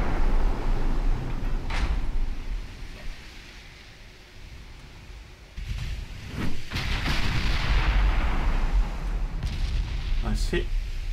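Warship guns fire in a naval battle in Ultimate Admiral Dreadnoughts, a few heavy booming blasts with rumbling tails over continuous low engine and sea noise, while someone talks.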